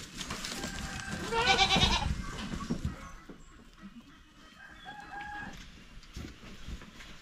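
Male goats on a rural farm in the Philippines bleat, with one loud, close bleat early on followed by fainter calls and farmyard background noise.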